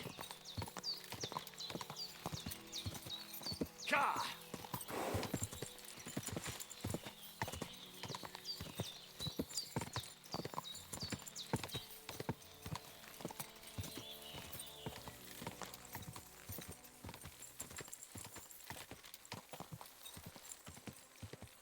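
Horse hooves clip-clop rapidly and steadily in a Kingdom Come: Deliverance II gallop, close and continuous for the whole stretch, with a brief neigh and someone shouting commands over the rhythm.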